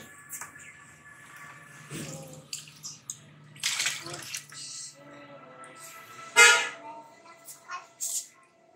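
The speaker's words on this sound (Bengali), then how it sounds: "গাছগুলোকে একটু জল দেই।" Water splashing and trickling as potted plants are watered, in soft irregular bursts with a few louder pours, while someone talks intermittently nearby.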